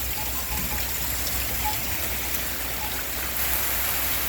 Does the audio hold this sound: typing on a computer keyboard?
no